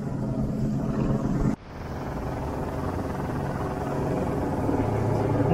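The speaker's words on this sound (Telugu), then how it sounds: "అక్కడ ఒక హెలికాప్టర్ ఉంది, ఇక్కడ ఒక హెలికాప్టర్ ఉంది." A camera helicopter hovers over an Olympic beach event at Enoshima Island, Japan, producing a steady, distant rotor drone that blends with busy outdoor ambience, briefly cut off and then resuming.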